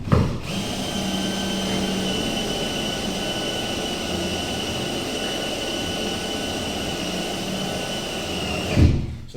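A power drill bores into aluminium, whirring steadily and loudly up close for about eight seconds, starting and stopping abruptly with a low thump at each end.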